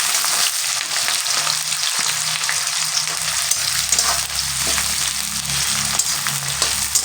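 Two or three small chopped onions frying in hot oil for a Bengali katla fish kaliya, with a close, steady crackling sizzle and occasional scraping stirs throughout.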